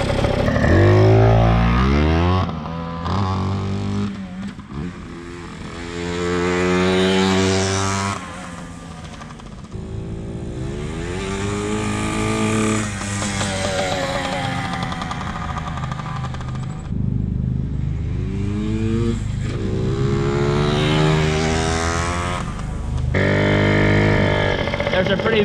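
A Yamaha PW80 dirt bike engine revs and drones loudly while being ridden over bumpy ground, rising and falling through gear changes, with people talking over it throughout.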